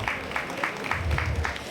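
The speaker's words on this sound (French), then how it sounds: "Merci de l'applaudir." Audience at a Tahitian dance evening in Léran, Ariège, clapping in a steady rhythmic patter from a modest crowd, moderately loud and fairly close.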